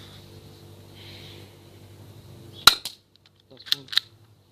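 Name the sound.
BB gun shooting at a piece of wood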